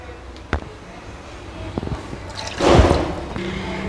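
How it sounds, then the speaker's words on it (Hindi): Water splashes into a karahi holding beef, a loud pouring gush rising midway after a few clicks and clunks of kitchen handling, then settling back down. "2 गिलास इसमें मैं पानी डाल रही हूँ।"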